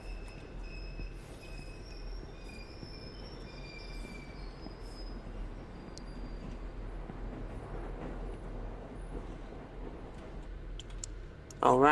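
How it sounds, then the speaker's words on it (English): A train arriving in the horror video game Ghost Train, a low rumble with high squealing wheel tones along the rails, ending in a sudden loud screech of brakes as it comes in. "Yeah, I hear the train."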